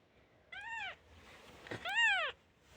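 Two newborn kittens, eyes just starting to open, give two distinct high, thin meows in quick succession, close and clear against a quiet room.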